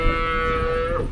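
A single drawn-out, tonal moo from cattle at a busy livestock market in Erode, close and loud for about a second, with a faint low rumble of the crowded market beneath.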